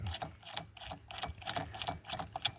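A hand ratchet clicks in rhythmic bursts while the flywheel nut is worked off a 1995 Polaris Xplorer 400 4x4 two-stroke ATV outdoors, each stroke giving a close metallic run of pawl clicks.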